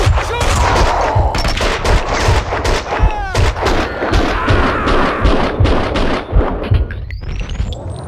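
Rapid gunfire in the Max Payne 2 video game, with dense bursts of loud close shots and impacts in quick succession, plus a rising whine near the end and a few voices shouting amid the fire.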